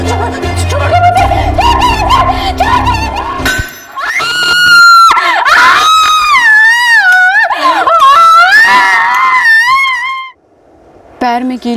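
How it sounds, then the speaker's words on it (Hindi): A nail is hammered into a woman's foot in a Crime Patrol TV drama, with metallic clangs and dense noise at first, then a long, piercing, wavering scream that rises and falls loudly before stopping abruptly. "पैर में कील ठोक दी।"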